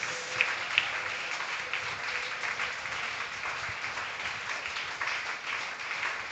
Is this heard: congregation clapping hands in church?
yes